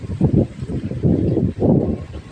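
Gusty wind buffets the microphone in low, rumbling surges, swelling and easing in three strong blasts, blowing leaves about outdoors in the Philippine countryside ahead of rain.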